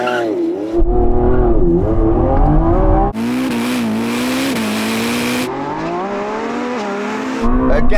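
Lamborghini Revuelto launching hard off the line in a drag race against a Ferrari 296 and SF90, loud close engine roar with rising revs and gear shifts, broad wind and tire noise throughout, no talk.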